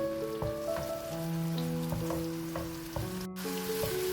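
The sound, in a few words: garlic and ginger frying in oil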